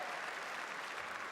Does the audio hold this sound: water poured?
no